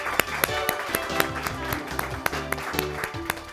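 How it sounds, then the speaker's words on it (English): Audience applause for an elementary school quiz team at a Science Bowl competition, a few seconds of steady clapping with sharp individual claps standing out. "Let's give them a nice round of applause."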